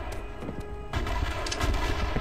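M1897 Trench Gun firing in Call of Duty World at War on the Wii, with a sharp gunshot blast partway through over background game noise and a few fainter distant pops, no talk.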